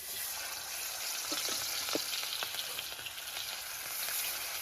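Fish pieces fry in hot oil with a dense, continuous sizzle and crackle that stays loud and even, with small pops scattered through.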